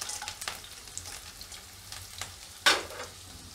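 Green chillies hitting hot oil in a pan for Surat-style lilva kachori, a brief sharp sizzle burst amid faint crackling and light stirring, close and fairly quiet.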